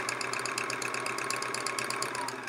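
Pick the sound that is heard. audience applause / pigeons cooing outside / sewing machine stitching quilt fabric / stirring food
sewing machine stitching quilt fabric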